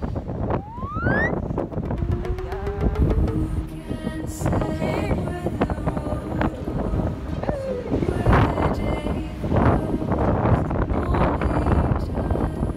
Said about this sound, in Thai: นี้ลมแรงนะ